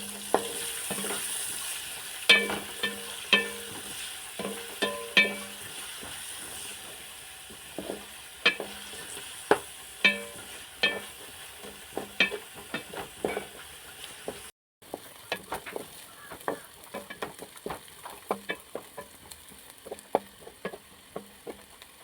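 Chopped small shallots and garlic fry in hot oil in a pan for a squid roast, giving a steady low sizzle broken by repeated sharp scrapes and taps of a spoon stirring, close and clear.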